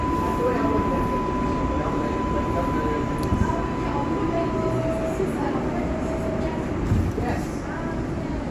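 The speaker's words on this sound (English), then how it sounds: "This is a Bronx-bound local train." An R142A 6 local train on the New York IRT subway rumbles and roars steadily while riding Bronx-bound, with a faint tonal whine over the continuous rail noise and people talking intermittently.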